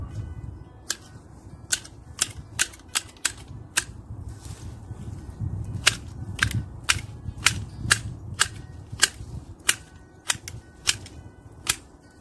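Pruning shears snip through lavender stems in a series of sharp, crisp clicks, some closely spaced and some more spread out, over a quiet outdoor background.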